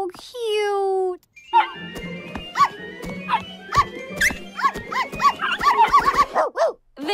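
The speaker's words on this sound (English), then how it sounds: "Puppies!" Puppies yipping and barking in quick, high-pitched bursts that grow busier toward the end, close and fairly loud, following a brief squeaky whinny-like cry at the start.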